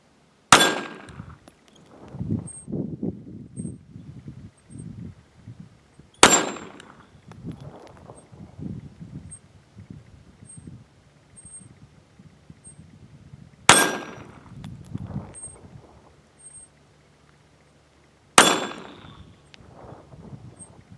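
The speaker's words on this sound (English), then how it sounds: "Getting ready to shoot 22 mag, Federal Game Shock, 50 grain hollow point, distance 6 or 7 yards through the Kel-Tec PMR 30." Four loud .22 WMR pistol shots from a Kel-Tec PMR 30 firing Federal Game Shock 50-grain hollow points at about 6 or 7 yards, spaced several seconds apart, each a sharp crack followed by echo and handling clatter.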